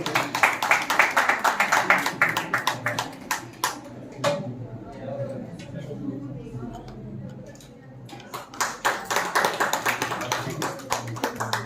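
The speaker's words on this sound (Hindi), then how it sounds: "जोरदार तालियों से सम्मान।" Audience applause at a panel discussion in an auditorium for World Book Day, loud rapid clapping from a crowd that fades to a lull mid-way, then surges again with dense claps and a voice over it.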